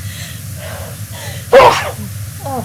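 A single sharp human sneeze bursts out midway, loud and close, with brief soft speech before it and a short voiced sound trailing after.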